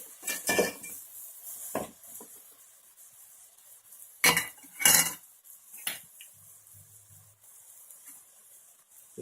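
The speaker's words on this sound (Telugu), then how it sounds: "ఉప్పు వేసుకొని ఈ విధంగా ముక్కలన్నిటికీ బాగా పట్టేలాగా కలుపుకోవాలి" Raw banana pieces are mixed with salt in a pot, making several sharp, separate scraping clanks of a spoon against metal with quiet gaps between them, close and fairly loud.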